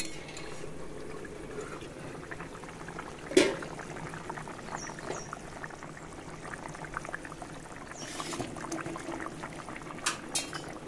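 Water poured into a simmering Bengali bata fish curry with drumsticks, a steady bubbling boil running throughout with a brief louder splash near the start and faint clinks later; no one speaks.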